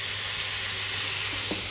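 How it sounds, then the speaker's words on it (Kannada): Onions and leaves frying in oil alongside lentils, a steady close sizzle with occasional faint stirring scrapes near the end and no voices. "ಆನಿಯನ್ ಬೇಳೆ ಸೊಪ್ಪು ಮತ್ತು ಎಣ್ಣೆ ಎಲ್ಲ ಹಾಕಿ ಫ್ರೈ ಮಾಡಿ"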